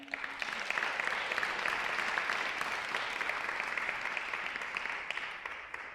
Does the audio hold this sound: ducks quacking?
no